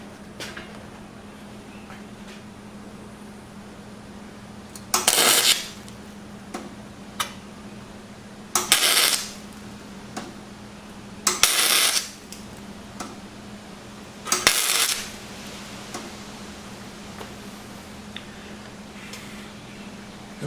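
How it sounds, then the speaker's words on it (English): A broken seat bottom frame from a 1999–2006 Chevy Suburban, Tahoe, Yukon or Silverado is spot welded, giving four separate short, sharp crackling bursts spaced a few seconds apart over a quiet background hum, close by. "so I'm going to put some spot welds on that."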